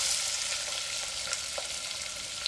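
Onion, garlic and cumin fry in oil and butter for pav bhaji, giving a steady, close, bright sizzle that runs throughout with faint clinks and no voices.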